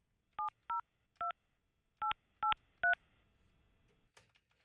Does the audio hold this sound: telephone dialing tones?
yes